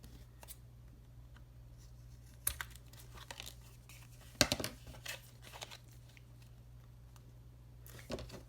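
Scissors cutting the edges off a pretend paper credit card, a few quiet snips and crinkly paper sounds spaced out over a faint room hum.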